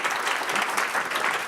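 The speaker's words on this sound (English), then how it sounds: "How about a round of applause for Mike and everyone at MadPal" Conference audience in Boston applauding steadily, a dense wash of many hands clapping at even loudness throughout, with no voices rising above it.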